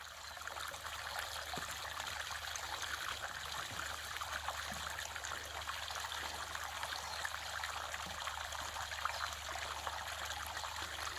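Water trickles steadily out of a silted-up, blocked bypass pipe, a continuous close babbling stream with faint scattered knocks underneath.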